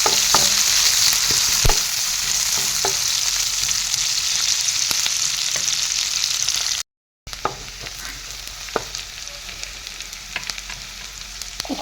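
Onions and raw green chillies fry in hot oil for a fish curry with a dense, continuous sizzle, punctuated by scattered spatula taps and scrapes. A brief silent break splits the clip partway through.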